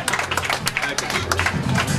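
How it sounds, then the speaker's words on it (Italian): Audience clapping at a Miss beauty event held alongside a mortar-and-pestle pesto contest in Alassio, a busy, continuous patter of many hands under people talking nearby. "Simona Alessi, un applauso facciamolo"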